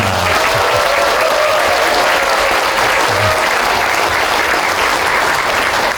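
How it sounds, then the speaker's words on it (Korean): Loud, dense applause from a large lecture audience, continuous clapping sustained for several seconds at close range with a faint murmur underneath. "박수 한번 부탁드립니다"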